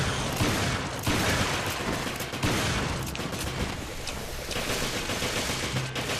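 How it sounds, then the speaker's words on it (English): Sustained machine gun fire with dense rapid bursts and booms in Resident Evil Revelations Raid Mode aboard a ship's deck, loud and continuous with no talking. "Machine guns out."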